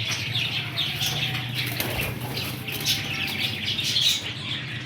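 Qasori breed pigeons flapping their wings in a continuous close flutter, with occasional chirps and a steady low hum underneath.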